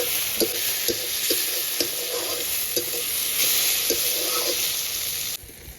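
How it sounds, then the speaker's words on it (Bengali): Cumin paste being stirred into a curry in a pan, a steady sizzle of frying under repeated rhythmic scrapes of the spoon against the pan, close and fairly even, with no talking. "এবার জিরে বাটাটা দিয়ে ভালো করে মিশিয়ে নামিয়ে নেব।"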